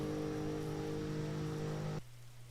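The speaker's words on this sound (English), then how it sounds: "So the rain is getting even worse." Steady rainfall hiss in a racing video game during Canadian Grand Prix qualifying, laid under a droning engine hum that cuts out abruptly near the end, leaving only the rain.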